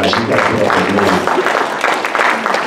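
Applause at a Rio Rancho mayoral forum, a short burst of clapping from the audience with someone speaking over it.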